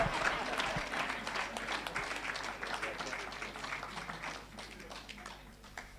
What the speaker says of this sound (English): photo time, so keep clapping as they get a photo